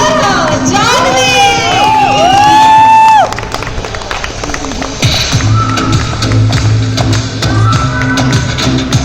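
Audience at a charity fashion and awards show cheering and shouting for a model on the walk, lively crowd voices over music with tapping footsteps, growing louder then mixing with chatter.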